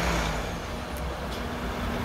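Loud city buses rumble past on a windy street, a dense, continuous roar of engine and traffic noise buffeting the microphone, with no speech.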